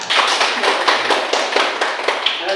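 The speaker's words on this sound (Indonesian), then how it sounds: "Tepuk tangan" Students applaud in a classroom: a dense, steady round of clapping from many hands, loud and close, lasting the whole stretch.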